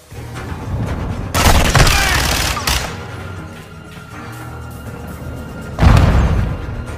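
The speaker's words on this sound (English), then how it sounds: "Grenade!" Grenade blast and rapid gunfire in the video game Call of Duty: Modern Warfare, with loud bursts of shooting and booming impacts, a large explosion around the middle and another heavy blast near the end.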